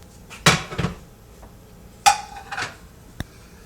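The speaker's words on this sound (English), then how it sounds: "Put the plate over the pan and then flip it." A plate clatters against a pan while Italian bubble and squeak is flipped. Two sharp ceramic-and-metal knocks land about a second and a half apart, each followed by softer scraping, and a small tick comes at the end.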